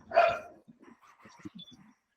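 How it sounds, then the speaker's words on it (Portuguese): Small dogs barking, a loud burst of yapping up front followed by scattered fainter barks and yips, close by and heard alone. "As minhas cachorrinhas estão latindo para as suas cachorrinhas aí."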